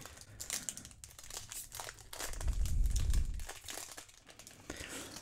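A MetaZoo Topps Series 0 trading card pack being torn open: close, quiet crinkling and tearing of the foil wrapper, swelling to a louder rustle midway and then settling into lighter crinkles.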